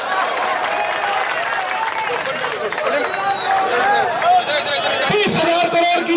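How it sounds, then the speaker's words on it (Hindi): A large crowd at an outdoor political rally in Aurangabad claps and cheers in a dense, loud wash of applause and hubbub. Voices mix in throughout. "ठोको ताली"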